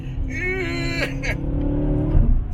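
A McLaren GT sports car rated at 700 horsepower drives up with a close engine drone and a brief rise in pitch, while people talk over it.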